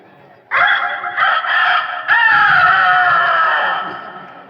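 A performer's voice imitates a rooster crowing, loud and close: a strained, drawn-out call in two long surges with a short break between, trailing off at the end.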